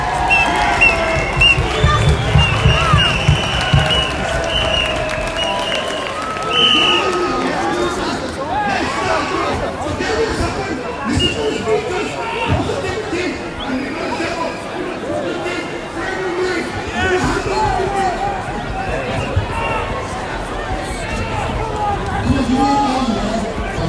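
Crowd of protesters moving through a Freedom Rally in York, a dense babble of chatter, footsteps and scattered shouts close around, with occasional hand claps, continuous and loud throughout.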